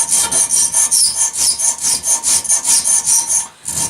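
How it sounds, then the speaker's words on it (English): A hand file rasps steadily back and forth while cutting a triangle notch, producing a loud, close, rhythmic scraping of about eight strokes per second that stops briefly near the end. "The file's working pretty good."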